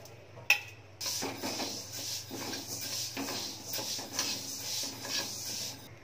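Moong dal is stirred and dry-fried in a wok (kadai), a steady scraping and rattling of lentils against metal with a soft clank, quiet and continuous without speech.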